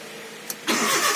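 A brief click, then a Maruti 800 engine with no silencer cranks and catches, roaring loudly and raw right away.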